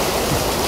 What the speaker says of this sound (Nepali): यत्रो खोलो बगिरहेको छ यहाँ